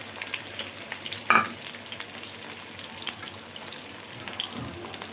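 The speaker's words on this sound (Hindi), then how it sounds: "सबसे पहले मसाला ऑयल गर्म हो चुका है। अब इसमें प्याज ऐड करते हैं।" Sliced onions hit hot spiced oil in a pan with a sudden sizzle, then settle into a quiet steady frying hiss with faint clinks, no voices.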